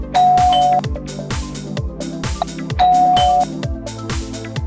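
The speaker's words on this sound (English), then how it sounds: "Whenever someone comes to the door, the bell will ring automatically." An automatic doorbell built from an Arduino Uno with an IR sensor and an ISD1820 voice module rings loudly, playing a repeated ding-dong chime sequence with sustained descending tones and no talk.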